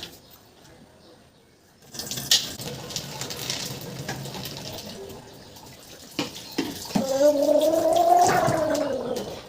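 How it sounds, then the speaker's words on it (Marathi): Dried jawla fish rubbed and washed by hand in a bowl of water, with wet sloshing and splashing that grows busier toward the end, accompanied by a voice talking. "मी ह्यामध्ये पाणी टाकून मस्त असं चोळून घेते"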